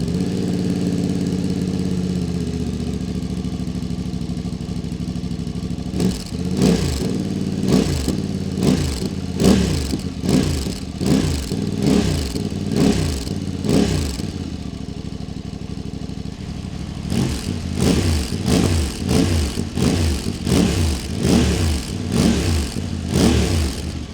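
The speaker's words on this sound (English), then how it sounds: "First initial startup and sound check." Voge DS 800 X Rally motorcycle fitted with a Scorpion exhaust, baffle still in, idling steadily and then blipped in repeated rhythmic revs in two clusters, close and loud.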